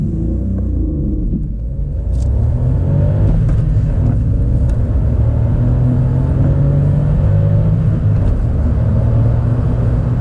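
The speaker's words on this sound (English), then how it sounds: "Let's see what this front-wheel drive, very light hot hatch can muster." A VW Up GTI, a light front-wheel-drive hot hatch, accelerating hard from 0 to 60 on a damp British road, its engine droning loudly and steadily from inside the cabin through gear changes, without talk.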